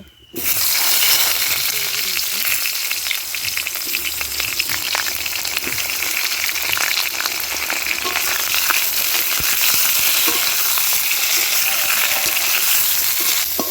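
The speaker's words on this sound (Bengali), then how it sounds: "বেগুনটা ভেজে নেব" Eggplant fries in hot oil for Bengali shukto, a loud, unbroken sizzle that hisses and crackles close by for the whole stretch after a brief quiet start.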